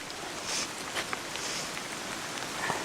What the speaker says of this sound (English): the rain has diminished somewhat